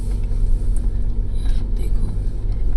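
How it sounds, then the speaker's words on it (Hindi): A rear-wheel-drive Mahindra Scorpio SUV grinds along a rough, partly cleared mountain road, its engine giving a continuous low rumble, with people talking quietly over it. "वैसे ये स्कॉर्पियो रियर व्हील ड्राइव है तो निकल गई है"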